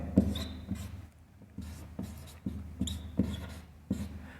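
Chalk or marker scratches out short writing strokes on a classroom board during a maths lesson, a series of brief rubbing bursts with small pauses between them, close and moderately quiet, no talk.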